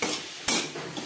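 A spice mixture of garlic, tomato, turmeric, ginger paste, green chili paste and salt is stirred in a pan, giving a soft sizzle with one sharp utensil scrape midway, close and brief, with no talking.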